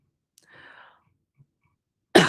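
A sudden, loud, sharp sneeze bursts out near the end, after a couple of faint breathy sounds and tiny clicks; no one speaks.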